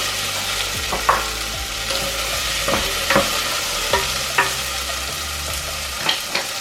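Carrots stirred into softened potatoes frying in a pan, a steady close sizzle broken by repeated scraping stirs of a utensil against the pan, no voices.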